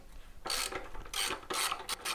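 A ratchet with a 13mm socket loosens a nut on a BMW R1250GS motorcycle exhaust, making a few quiet, close rasping clicks in short strokes.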